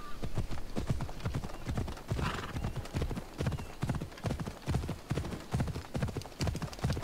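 Horse hooves clip-clop in a steady, brisk rhythm in the video game Assassin's Creed Odyssey, close and continuous, with a brief whinny near the start.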